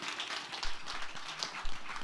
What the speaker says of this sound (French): On nous applaudit, visiteurs, nous à la gloire de Dieu.